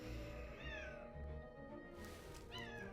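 A cat meowing in a Magic: The Gathering Arena game: two drawn-out, rising meows over a steady electronic music bed, the second meow following after a short pause.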